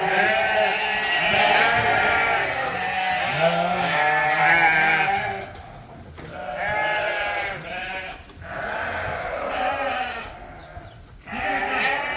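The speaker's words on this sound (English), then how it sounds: "All these are ewe lambs." A pen of sheared ewe lambs, some of them black-headed Suffolks, bleats loudly and almost without pause, with overlapping calls close by and short lulls between the choruses.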